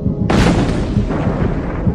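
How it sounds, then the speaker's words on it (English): A single heavy bomb blast bursts in suddenly, then a deep rumbling roar lingers and slowly fades. "This film shows what happens during an explosion."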